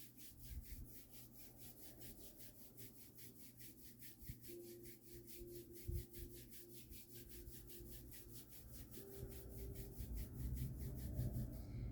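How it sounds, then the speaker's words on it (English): Palms rubbed together during a calm energy-balancing exercise, a soft, steady rhythmic swishing of skin on skin, faint and close, with no voices. "Then we'll rub the palms together."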